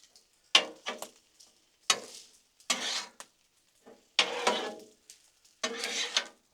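Shrimp fried rice being stirred and tossed on a Blackstone griddle: repeated bursts of sizzling and metal spatula scrapes in uneven strokes, close and fairly clear with quiet gaps between.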